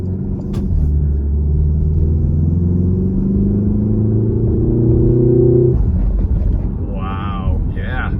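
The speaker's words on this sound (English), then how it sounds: "Much louder intake suction, as well as like a spooling from the turbo." A Porsche Macan fitted with a Flat 6 Motorsports intake accelerates with loud intake suction and a rising engine drone, then backs off as the rising turbo spooling fades, leaving wind noise and a brief whistle near the end.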